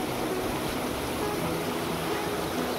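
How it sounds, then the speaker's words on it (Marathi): Floodwater from heavy rain and an overflowing river rushes past a house in a steady, loud, continuous wash of flowing water, with no break over the whole stretch. "बघा पाणीच पाणी वाहलं"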